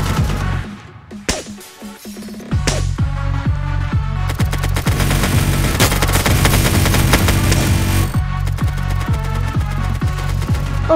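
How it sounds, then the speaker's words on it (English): Sustained automatic gunfire from a minigun in the online heist game Notoriety, loud, dense and continuous after a brief stuttering start, with rapid repeated bursts running through most of the stretch. "I bought a minigun and like a bunch of shotguns"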